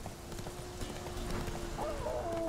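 Horse hooves gallop in The Witcher 3 video game, a quick, steady clip-clop rhythm at moderate volume with a brief whinny-like tone near the end.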